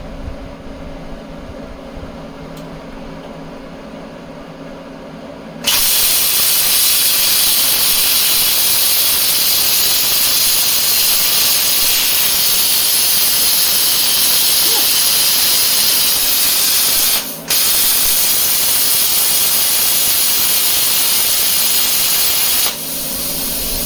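Plasma cutter running at 30 amps slicing through scrapped RV steel, a loud, steady broadband hiss that starts abruptly and holds for about seventeen seconds with one brief dropout before cutting off.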